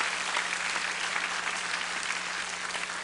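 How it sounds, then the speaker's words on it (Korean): A church congregation at a Friday worship service claps to welcome a visiting pastor, a steady, full wash of applause from many hands that fills the room from start to finish. "우리 환영의 박수 한번 해주시면 감사하겠습니다"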